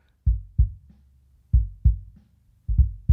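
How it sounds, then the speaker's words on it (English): Kick drum picked up by a kick-out microphone in a studio, heard as deep, boomy thumps alone in pairs: two quick hits, a pause, then two more, repeated three times with resonant low tails. "So the kick out mic, if you can hear it, I'll pump it up a little bit. It's just the boominess."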